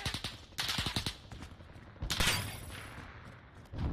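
Distant, fairly quiet bursts of gunfire from the Call of Duty: Modern Warfare beta crack in short clusters: a quick rattle early on, then a sharper volley about halfway through.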